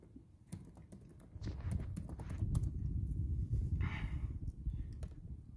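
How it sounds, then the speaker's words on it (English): Someone types a single word on a computer keyboard, giving a short run of soft, close key clicks over quiet room noise. "I'm going to type in the word panelist."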